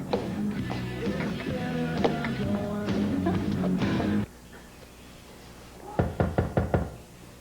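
Knocking on a door, two bursts of several sharp raps each, heard in a domestic scene on a 1992 daytime soap; background voices and room noise fill the first half, then a quieter pause before the second clear set of knocks.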